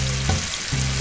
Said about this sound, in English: When the oil has warmed up, I begin to put the balls in there. And they're frying almost immediately.